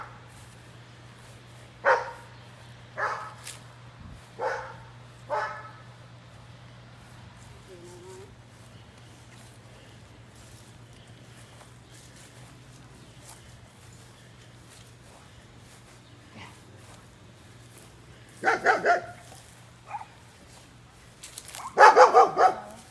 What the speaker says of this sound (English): we got a puppy dog over there that wants to come play with us